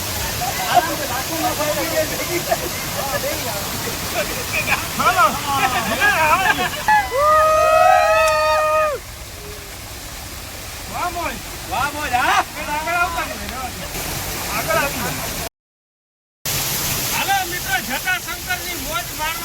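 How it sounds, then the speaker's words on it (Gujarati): Water pours down a small waterfall at Jatashankar Mahadev near Junagadh, a constant rushing wash that runs throughout beneath several people talking and calling out nearby. "સરસ મજાના છટામાંથી વહેતું પાણી છે"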